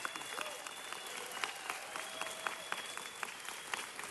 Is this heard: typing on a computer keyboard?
no